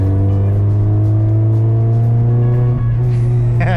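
A 41-year-old Porsche 944 with a 160-horsepower engine pulls away, its loud, steady engine drone heard up close from inside and rising slightly in pitch near the end.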